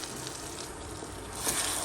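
Dry chili pepper sauce fries in vegetable oil, a steady, close sizzle and crackle running throughout, swelling slightly louder near the end.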